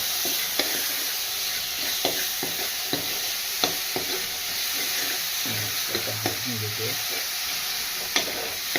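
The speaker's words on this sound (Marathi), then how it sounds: "मी आता टोमॅटो टाकून घेतो त्याच्यामध्ये. टोमॅटोला पण एकजीव करायचं, मस्तपैकी टोमॅटोही नरम पडला पाहिजे" Tomatoes sautéing with onion in a pan for a spicy dried fish curry, giving a continuous near sizzle and hiss with regular stirring knocks and scrapes and a faint low hum partway through.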